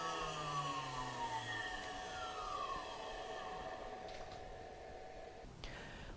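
A water-cooled CNC spindle winding down after being switched off, a set of steady whining tones that slowly fall in pitch and fade, followed by a couple of faint clicks near the end, with no talk.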